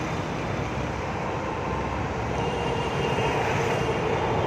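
Early-morning metro train passing near Dilsukhnagar, a steady, loud rumbling roar that holds evenly throughout with no voices.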